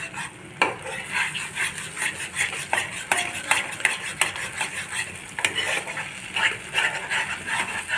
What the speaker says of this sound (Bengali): এটা একটু ভালো করে নাড়তে হবে যাতে এই টমেটোর ট্যাঙ্গিনেসটা চলে যায়।